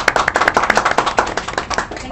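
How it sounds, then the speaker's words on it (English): Audience applause for a guest on the Back Porch Stories podcast, sharp close claps in a quick uneven patter lasting about two seconds, with a faint voice mixed in. "now some applause for me"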